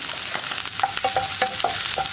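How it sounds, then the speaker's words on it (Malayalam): Sizzling frying of ginger and green chili in a pan with a steady crackle, broken by a few sharp scrapes of a spatula stirring. "അപ്പോൾ അത്രയും സമയം നമ്മളൊന്ന് വഴറ്റിക്കൊണ്ടേയിരിക്കുക."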